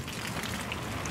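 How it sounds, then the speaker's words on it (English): Heavy rain pours down steadily, a dense hiss of drops drumming on a surface, loud and continuous with no voices. "It is raining so hard right now."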